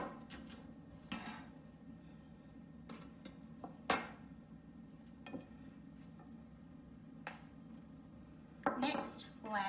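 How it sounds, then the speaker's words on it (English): A knife chops celery on a cutting board, with scattered sharp cuts spread over about ten seconds, some single and one quick cluster near the end, fairly close and moderately loud, with no voice. "you'll take some celery and just start chopping it up"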